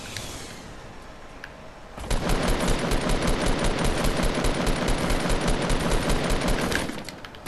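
Rapid automatic gunfire in a shooter video game, a loud continuous burst of dense shots that starts after a quieter stretch and runs for about five seconds.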